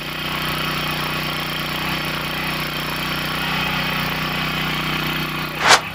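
A small petrol engine on a farm tilling machine runs at a steady, close, buzzing drone, with a short sharp burst just before it ends and no talking.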